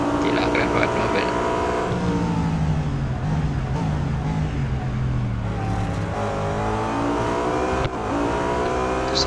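BMW M3 GTR race car engine in the Real Racing 3 mobile racing game, revving loudly with rising and falling gear pitch sweeps as it accelerates, while someone talks over it.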